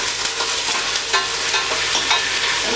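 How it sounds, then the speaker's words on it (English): Haitian rice and chicken sauce is stirred in a frying pot, a steady, dense sizzle close by with occasional scrapes and clinks of the spoon. "keep stirring it regularly so it doesn't get burned"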